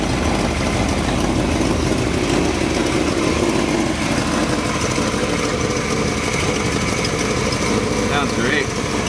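A 1957 Chevy 150 two-door sedan with a 283 V8 and automatic transmission idles steadily nearby, a constant loud rumble under brief talk.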